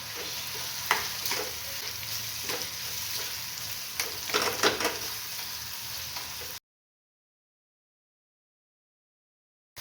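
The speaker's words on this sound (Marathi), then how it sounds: "आता छान मस्तपैकी परतून झालेलं आहे" Vegetables sauté with crushed peanut powder in a pan, sizzling steadily while a spatula scrapes and clatters in short bursts, before the sound cuts abruptly to silence for the final few seconds.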